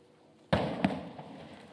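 Explosions in the war zone at Beit Hanoun, Gaza, during fighting: a sudden heavy broadband blast, then a second sharp boom a moment later, both followed by a long rumbling decay over quiet background, with no voices.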